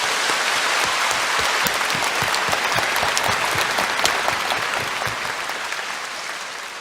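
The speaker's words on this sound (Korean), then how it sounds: "우리 주님께 감사 박수를 드리십시오" A large church congregation applauds during a Sunday sermon: a dense, sustained wash of clapping from many hands that fills the room and slowly fades toward the end.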